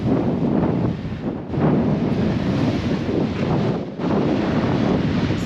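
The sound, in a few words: strong wind at Seven Mile Beach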